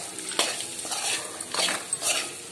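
Eggs fry in masala and are stirred in a pan, giving soft sizzling under a run of close utensil scrapes and metallic clinks in an irregular rhythm.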